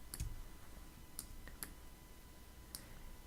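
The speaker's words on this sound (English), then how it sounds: "I'm going to use the quick key, which is Shift Command O on your keyboard." A few faint, sharp computer-keyboard clicks as a shortcut is pressed, isolated taps spaced unevenly over a quiet background.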